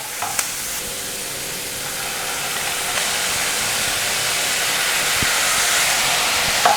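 Soy sauce hits a hot pan of vegetables for egg fried rice, setting off a bright hissing sizzle that swells gradually and stays loud, with a few faint clinks of utensils.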